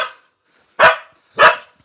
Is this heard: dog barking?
yes